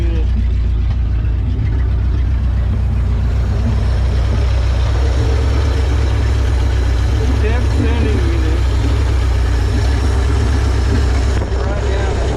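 The engine of a 1970 Ford F250 truck idles steadily and low while someone talks over the rumble.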